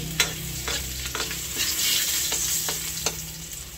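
Chopped garlic sautéing in leftover oil from fried fish in a pan, a steady close sizzle with scraping stirs and clanks at irregular intervals, no voices.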